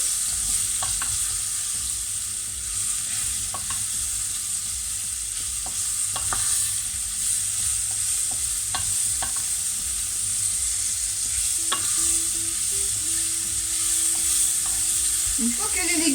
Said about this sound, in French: Vous remuez pour bien imprégner toutes les saveurs